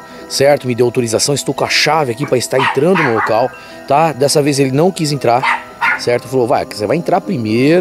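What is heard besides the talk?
dog barking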